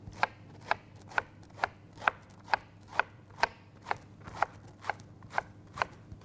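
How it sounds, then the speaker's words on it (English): Quick, steady knife chops on a cutting board, about a dozen crisp, evenly spaced strikes over a faint low hum, with no one speaking. "Chop it up quick"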